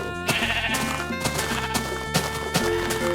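Sheep bleating in the Minecraft video game, several loud wavering bleats close up over rhythmic clopping footsteps and a musical background.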